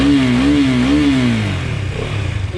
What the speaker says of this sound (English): So this is the exhaust note.